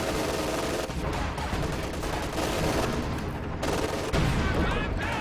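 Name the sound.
MG34 machine guns firing at each other in Company of Heroes 2 video game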